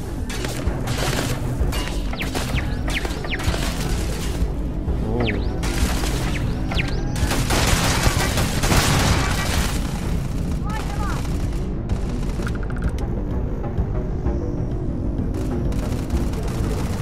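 Enemy gunfire and explosions from pirate marauders and turrets in the Starfield space game, a dense, continuous barrage of booms and shots with sharp crashes, loud throughout, while someone talks over the fighting.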